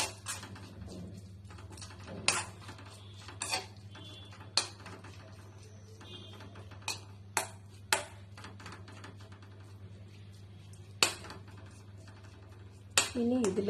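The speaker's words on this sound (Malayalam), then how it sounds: "ഇനി ഇതിലേക്ക് പച്ചമുളകും കറിവേപ്പിലയും കൂടെ ആഡ് ചെയ്യാം. വീണ്ടും മിക്സ് ചെയ്ത് കൊടുക്കുക." Wheat bread batter is mixed with green chillies and curry leaves in a bowl, giving scattered sharp clinks and taps of a spoon against the dish over a low steady background hum.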